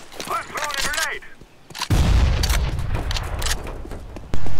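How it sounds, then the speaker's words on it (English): A grenade blast in a shooter video game with hostage rescue: a sudden loud, broad boom lands midway and rumbles on, after earlier scattered gunshots, with a player's voice speaking before it. "I'm throwing a grenade!"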